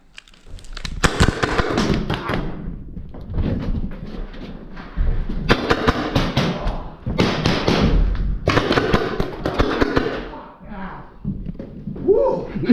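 Airsoft guns firing in a close-quarters backyard game, sharp snapping shots in short bursts mixed with thuds, while players talk and shout throughout.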